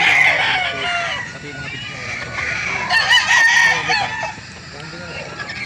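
Several young roosters (stags) crow at a chicken market in Calauan, Laguna, with loud, overlapping, drawn-out calls close by and clucking and chatter around them.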